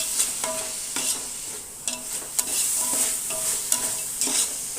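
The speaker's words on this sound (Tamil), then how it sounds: "இப்போ இதில் 1 கப் அளவுக்கு கேரட்டையும் சேர்த்துட்டு நல்லா வதக்கி விட்டுடலாம்" Beans and carrot sautéing in a hot pan for vegetable biryani, a bright continuous sizzle broken by repeated sharp scrapes and taps of a spoon stirring against the pan, close and with no talking.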